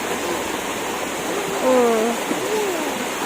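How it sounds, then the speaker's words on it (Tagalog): Rain falling at a river where people are bathing, a steady wash of water noise throughout, with a brief exclamation and faint voices over it. "Yan, naulan na. Parang tingin ko lalakas talaga to."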